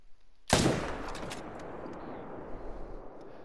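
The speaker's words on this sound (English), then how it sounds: "Now that shot should take him down" A single loud rifle shot fired at a bull elk in a hunting video game cracks out sharply, then its echo rolls away and fades over the next few seconds.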